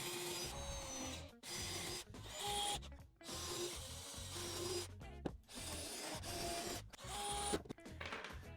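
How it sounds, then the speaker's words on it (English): A power drill countersinking holes in wooden boards for a kids' patio chair, rough grinding and rubbing in short bursts separated by brief pauses, fairly quiet and close. "we're just countersinking it a little bit"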